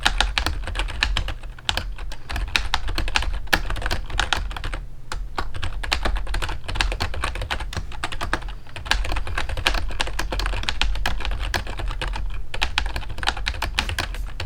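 Typing on a Logitech G213 Prodigy membrane gaming keyboard, a rapid, steady stream of soft, muffled key presses close up, continuous and even without talk.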